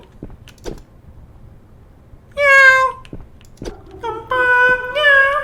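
Two loud, drawn-out cat meows in a Thai horror video game, the first alone and the second following a low creak, both close and clear over a quiet background.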